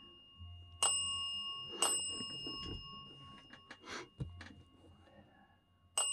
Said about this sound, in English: can you answer my questions with the bell? Ring it once for yes.